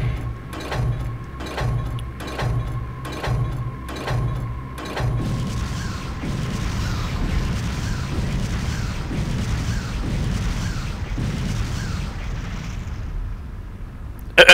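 Bombs dropped from an aircraft explode in the flight combat game Aces High 2: a rapid series of loud, evenly spaced booms gives way to a continuous heavy rumble of overlapping blasts, with no talk.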